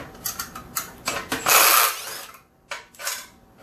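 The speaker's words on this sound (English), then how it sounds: "So we're just gonna bolt it out, wrench, impact." An impact wrench removes bolts from a Keizer sprint car wheel, its ratcheting whir starting in short bursts and then a longer sustained run, followed by a few more quick hits at close range.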